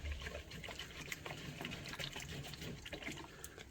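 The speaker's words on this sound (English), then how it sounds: "I want to be able to pour it into my mold." Liquid snickerdoodle butter bar mixture poured into a mold, a soft close trickle and dribble with faint wet splashes, quiet and continuous without talk.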